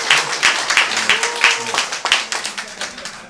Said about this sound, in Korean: 박수 한번 치셔야죠